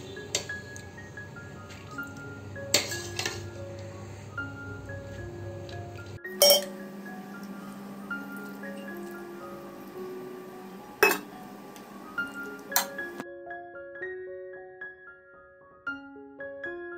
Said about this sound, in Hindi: अब हम इसमें पहले चावलों को शामिल करेंगे।